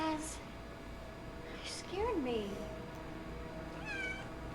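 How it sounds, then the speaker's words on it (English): A cat in the horror adventure game Phantasmagoria gives a few short meows, rising and falling, spaced across a few seconds over faint background ambience. "Jump scare cat."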